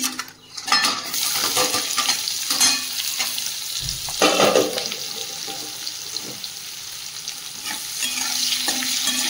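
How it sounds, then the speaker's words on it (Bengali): Chopped onions hiss and sizzle loudly in a pan as they are stirred, the spatula scraping and knocking against the metal throughout. "পেঁয়াজটা ভাজা ভাজা হয়ে গেছে"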